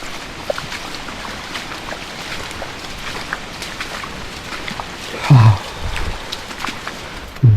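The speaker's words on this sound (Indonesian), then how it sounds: "Udah 3 hari ini hujan terus." Steady rain falls over the forest on Mount Tampomas, a continuous hiss with a few louder knocks and drips partway through and at the end.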